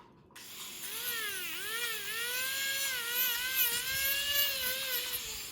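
A high-pitched dental drill whines while trimming the margin of a tooth preparation on a bridge exercise, its pitch dipping and rising with pressure, loud and close with no talk.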